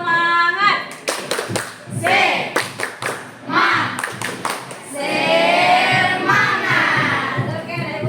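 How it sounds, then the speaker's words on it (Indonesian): A group performs a rhythmic spirit clap (tepuk semangat) at a school group guidance session. Bursts of sharp, patterned clapping come between loud, chanted group voices, all close and energetic. "Oke, tepuk semangat."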